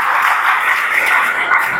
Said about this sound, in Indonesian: Berikan tepuk tangan kemuliaan bagi nama Tuhan.